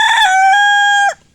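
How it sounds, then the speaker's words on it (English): One chicken lets out a loud, close, drawn-out call about a second long that holds a steady pitch and then drops away sharply into quiet. "The chickens make the same sounds."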